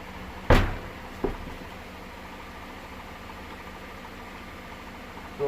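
A car engine idles with a low, steady hum, interrupted by a couple of sharp knocks like a door or latch.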